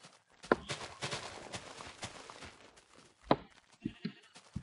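Sheep bleating in the Minecraft video game, several short bleats scattered among soft blocky footstep-like thuds and clicks, moderately close and without talk.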